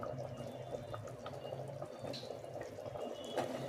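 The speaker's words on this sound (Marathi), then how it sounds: "तुम्ही बघू शकता साधारण या पद्धतीने आपल्याला उकळी येऊ द्यायची आहे" Masala khichdi mixture with coriander coming to a boil in a pot, a soft, steady bubbling and simmering murmur, faint and continuous, with no talking.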